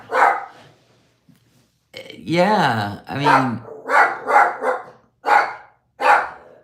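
A dog barks in short repeated bursts, several sharp yelps spaced through the clip, fairly close, with people talking briefly around them.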